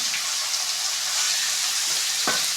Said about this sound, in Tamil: அந்த முள்ளங்கியை அப்படியே கடாயில் போடுறோம்